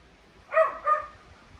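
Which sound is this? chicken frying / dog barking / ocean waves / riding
dog barking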